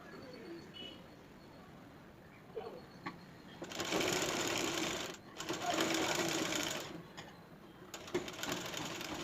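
Sewing machine stitching the folded edge of a saree, quiet and close, running in steady whirring bursts with short stops between them, while pigeons coo in the background.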